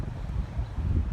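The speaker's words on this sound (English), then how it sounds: "Oh, it's windy today." Low, rumbling wind buffeting the microphone outdoors on a cattle farm in a steady gusty roar for about a second, no speech.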